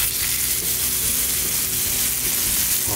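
Beef sears in hot oil on a sushi counter grill, a loud, dense and continuous sizzle that stays close and unbroken.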